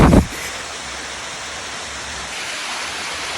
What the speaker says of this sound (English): This is Chenku Waterfalls here at Dodowa in the Greater Accra Region